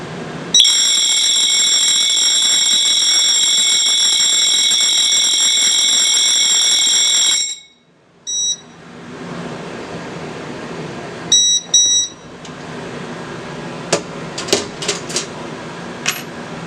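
Fire alarm system drill sounding a loud, continuous high-pitched tone for about seven seconds, then stopping, followed by a few short electronic chirps and clicks in a quiet room.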